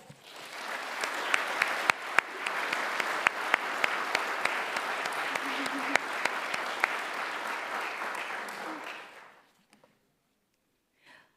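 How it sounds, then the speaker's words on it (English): Audience applause for retiring firefighters at a fire department awards ceremony, a long, dense roar of many clapping hands with a few sharper claps standing out, holding steady for about nine seconds before stopping abruptly into near silence. "Please join me in recognizing all of our retirees with a round of applause"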